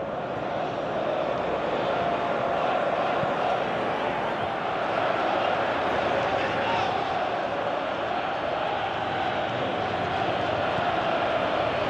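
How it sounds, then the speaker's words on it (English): A large football crowd at a Preston North End match roars in a continuous wash of noise, with a swell of excitement midway. "you can hear how the crowd are reacting to this too"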